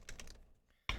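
A new, unlubricated BOXX controller button pressed on its side gives a few close, dry clicks, a quiet pause, then a sharper, louder click at the end, with a slight scratchy texture.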